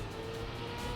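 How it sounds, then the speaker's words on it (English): A car drifts in the PC racing game Trackmania, its engine roar and tire noise a steady, dense wash that fills the whole moment without letup. "I gotta figure out how to drift there"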